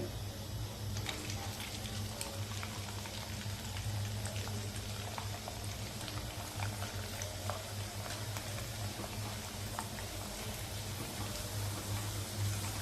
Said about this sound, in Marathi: आपण बॉबी पापड तेलामध्ये तळण्यासाठी घालूया.